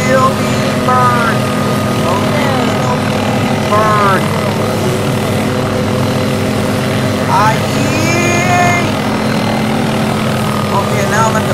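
Helicopter in Garry's Mod, a steady loud rotor and engine drone held constant and close throughout, with voices and chirping effects breaking in over it.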